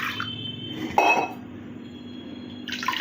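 Water is poured into a pot of red rice for porridge in a kitchen, making a short splashing gush with a light clink of a vessel, then quieter trickling and faint background sounds.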